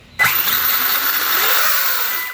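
A Kraton 8S radio-controlled car, set up on eight cells, launches hard on throttle with a sudden loud electric whine and rushing wheel noise that holds steady for about two seconds, close by.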